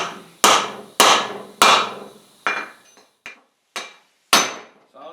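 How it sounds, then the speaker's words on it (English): A hammer pounds bearing races into a Bobcat axle, eight sharp metallic strikes landing close and loud in an uneven rhythm, the later blows softer and more spaced, each ringing briefly with no talk. "We'll see if we can pound some races in."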